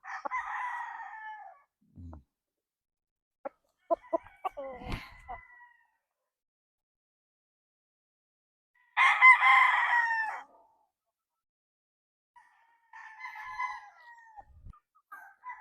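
Roundhead gamefowl stags, about six months old, crowing in separate bursts with pauses of silence between, fairly close, along with a few short clucks and clicks.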